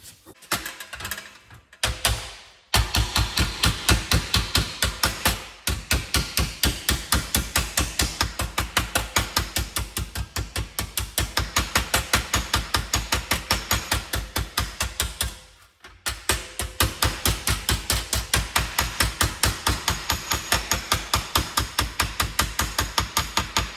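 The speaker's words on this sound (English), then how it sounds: "So let's try to hammer that out." A hammer pounds out a bent chain guard on a 1952 Columbia bicycle, delivering rapid, evenly spaced metallic blows in long runs broken by a few brief pauses, loud and close.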